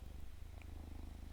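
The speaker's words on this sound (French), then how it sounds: "Non, c'est pas un hélico, c'est mon chat qui vient" A house cat purring very close, a low steady rumbling rhythm that continues without a break, with no voices.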